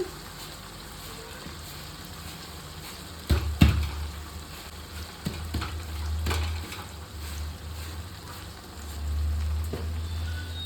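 Tempering oil sizzling in a pan for a baingan bharta, a steady frying hiss with a few louder crackling bursts and spits near the middle, heard close up with no talking.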